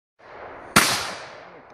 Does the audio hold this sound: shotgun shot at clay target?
yes